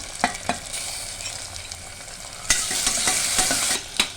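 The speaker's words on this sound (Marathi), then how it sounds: "पातळ केलेला कांदा आहे बघा कांदा थोडा स्मॅश झाला तोपर्यंत टाकून घेते मी टोमॅटो" Tomato sizzles with thinly sliced, slightly smashed onion in a hot pan for masala rice, a bright close frying hiss broken by sharp spoon-scraping stir strokes, growing louder midway.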